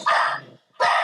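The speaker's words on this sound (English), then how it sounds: "That's the dog. I immediately got a dog." A dog barks twice, close and loud, each bark a short harsh burst separated by a brief silence.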